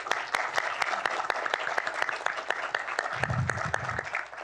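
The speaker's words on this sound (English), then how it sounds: "let's give them a round of applause" A modest audience applauds guests at a policy event on naval bases, with sparse, distinct claps spread through the room and a brief low murmur of talk near the end.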